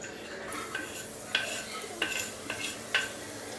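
Garlic is added and stirred in a pan, with quiet sizzling under a run of sharp utensil clicks and scrapes against the pan at irregular intervals.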